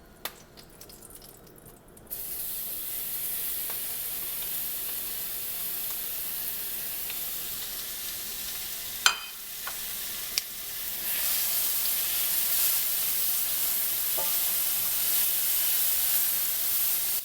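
Fig topping sautéing in the leftover oil from a seared pork tenderloin, a steady close sizzle that holds throughout, with a few brief clinks and a louder burst of frying near the end.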